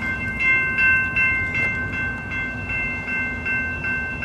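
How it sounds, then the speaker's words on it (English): A train passes a railroad crossing with a steady rumbling roar, while a bright ringing tone pulses in a regular rhythm throughout. "There's another train coming."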